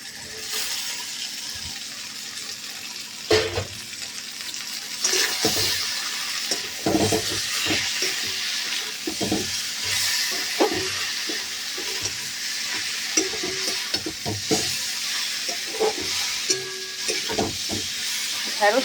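Okra frying in a pan on a gas stove hisses steadily while a spatula stirs it, with repeated scraping clanks and knocks against the pan over nearly twenty seconds.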